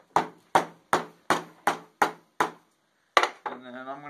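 A hammer drives a staple into a piece of scrap wood, with seven evenly spaced sharp knocks, then a pause and one final blow, followed by a brief scraping, rattling sound at close range.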